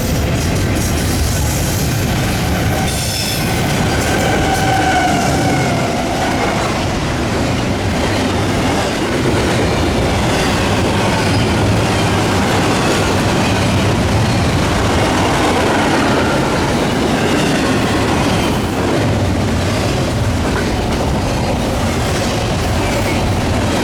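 An eastbound intermodal freight train on the Norfolk Southern Chicago Line rumbles past close by, a loud continuous roar of wheels and rail noise with faint clicking that holds steady throughout, no voices.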